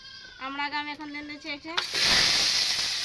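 Spices and amra hit a hot kadai and burst into a loud, steady sizzle of frying, arriving abruptly after someone speaks and continuing alone to the end.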